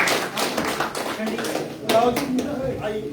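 A crowd claps for Mohammad Rafi at a political gathering where new members join the BJP in Jammu and Kashmir. The applause is a dense, steady patter that lasts throughout, with voices mixed in.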